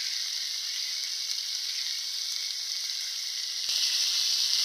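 Chopped tomatoes drop into a pan of fish curry cooking with drumsticks in a village kitchen. A loud, steady frying sizzle runs throughout and swells sharply near the end as they hit the hot oil.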